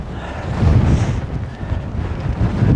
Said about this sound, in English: Wind is coming at me right now